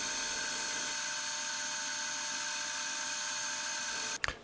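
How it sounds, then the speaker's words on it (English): A milling machine cuts the inside diameter of a gold ring from stock, a steady high whine that runs unbroken for about four seconds, then stops with a short clatter. "Now we have a hole big enough to fit our cutter in. I can get the inside diameter to the exact size I need"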